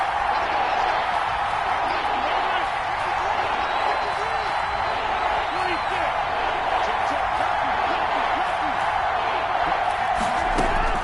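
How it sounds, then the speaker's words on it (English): A stadium crowd roars steadily in an American football video game broadcast on PS4 during an early Packers drive, a dense, continuous wash of cheering beneath a commentator's voice. "Crowd getting in it a bit already."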